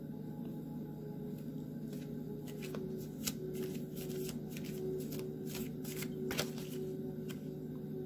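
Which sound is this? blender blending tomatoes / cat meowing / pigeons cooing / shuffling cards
shuffling cards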